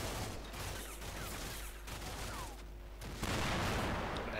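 Sustained gunfire from the video game Combat Mission Shock Force 2, a dense, noisy wash of rapid shots and distant booms continuing throughout, loud and unbroken, with a heavier burst toward the end.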